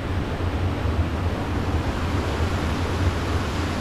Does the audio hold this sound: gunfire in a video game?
no